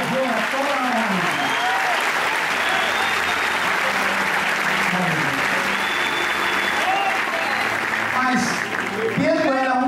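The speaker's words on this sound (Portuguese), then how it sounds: "Quantos podem aplaudir Jesus?" A church congregation applauds, sustained loud clapping from many people filling the room, with voices calling out and a raised, melodic voice threading above the applause.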